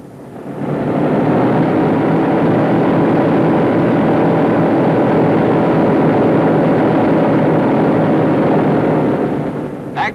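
Piston engines of a tail-wheel aircraft running up on the ground, a loud, steady, close roar that rises at the start and holds for about ten seconds.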